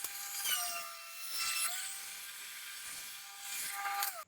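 A loud, high-pitched whine of a planer with a helical cutter head running steadily at about 90 decibels, with several short surges in intensity as wood feeds through the cutter.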